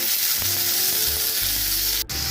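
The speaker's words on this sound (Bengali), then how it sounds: "কালো জিরা দেবো সামান্য হলুদ বাটাটা ঢেলে দেবে" Turmeric paste hitting hot mustard oil with nigella seeds, giving a loud, steady close sizzle with a low hum under it and a brief sharp clack near the end.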